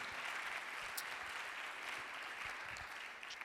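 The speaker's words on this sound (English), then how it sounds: "let's give these guys a big round of applause for" Steady applause from a crowd at a Rotary Club meeting, continuous clapping filling the room throughout, fairly even in loudness with no voices standing out.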